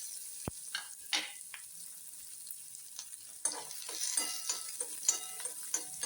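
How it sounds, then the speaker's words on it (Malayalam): Chopped onions frying in oil in a pan for a red chili chammanthi: a faint, steady hiss of sizzling broken by soft scrapes and clicks of stirring, with no voices. "ഇനി നമുക്ക് ഉള്ളി മൂക്കാനായിട്ട് എണ്ണയിലോട്ട് ഇട്ട് കൊടുക്കാം."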